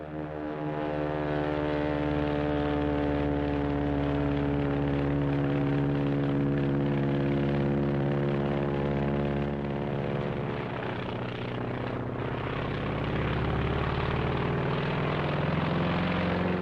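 A Japanese Zero fighter plane flies with a loud, continuous propeller engine drone that holds a steady, rich hum throughout, heard alone.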